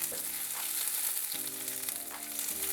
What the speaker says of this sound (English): I'm going to start frying 1/4 of a small white onion and 2 garlic cloves,